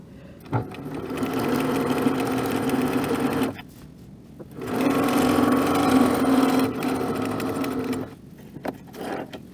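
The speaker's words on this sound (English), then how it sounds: "So that's sewing it at 1/8 of an inch." A sewing machine stitches apron fabric in two steady runs about 3.5 and 3.5 seconds long, broken by a short pause and a few soft clicks, close and fairly loud with no talk.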